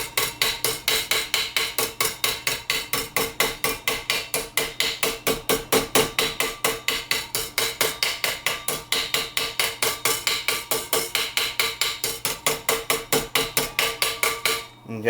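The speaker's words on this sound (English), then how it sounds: "Now I'm just using a regular medium-sized ball peen, and I'm just lightly tapping it and stress relieving this area right here." A medium-sized ball peen hammer lightly taps sheet metal to stress-relieve it, striking in a fast, steady stream of sharp, ringing metallic clicks that run without pause from start to finish.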